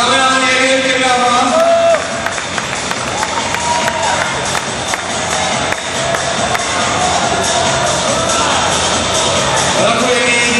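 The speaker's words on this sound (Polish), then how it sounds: "wielkie brawa" A crowd at a strongman competition in Łódź claps and cheers loudly and continuously, with shouts and whistles mixed into a dense, roaring wash of noise.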